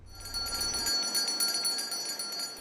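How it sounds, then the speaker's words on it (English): Salvation Army volunteers shake handbells in a rapid, continuous jingle of bright metallic rings that repeat without pause at a moderate distance. "Volunteers with the Salvation Army ringing their famous bells"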